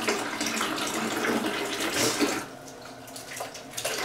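Cold water pours from a tap in a close, hissing, splashing stream that holds steady at first. It then drops in level, with a few brief splashes near the end.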